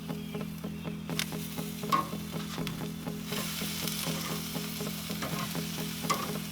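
Brown sugar bourbon chicken wings sizzle over direct heat on a Char-Griller charcoal grill outdoors, a steady close crackle with scattered pops and a low hum underneath, no talking.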